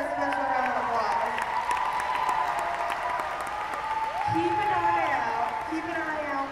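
An audience applauds an alumni tumbling team at a gym show, giving a steady, dense round of clapping with some cheering that holds for several seconds, a voice faintly over it.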